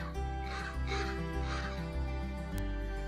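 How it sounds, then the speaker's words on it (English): Several harsh, croaking caws of a common raven in a slow series, about four calls spaced roughly half a second apart, over a steady low hum. "To distinguish a common raven from a crow, listen to their call and it is like,"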